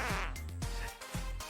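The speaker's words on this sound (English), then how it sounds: "Also, don't mind the fart noises." Comedic fart sound effects from a modded Street Fighter 6 game, three short, buzzy, descending blurts in quick succession, fairly loud and close with no talk over them.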